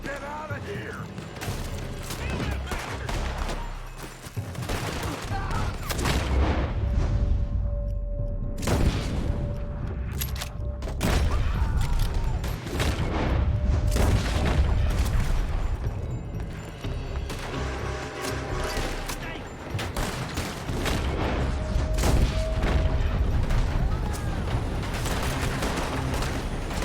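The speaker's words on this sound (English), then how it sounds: "They're shooting from that building." Gunfire in Red Dead Redemption 2 as enemies shoot from a building, repeated sharp shots and bursts amid mechanical clanks and creaks over a busy game soundscape, with voices speaking at times.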